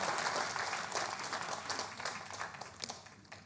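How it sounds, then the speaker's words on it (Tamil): An award ceremony audience applauds, dense sustained clapping from a crowd that gradually thins and fades, heard alone without voices. "இந்த கைத்தட்டல் எனக்கு கொஞ்சம் கஷ்டமாக இருக்குது"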